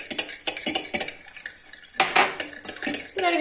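A utensil clinks and scrapes briskly around a bowl, stirring olive oil, eggs and yogurt for yeast-free poğaça dough, with several rhythmic bursts of close, clattering strokes and no voices.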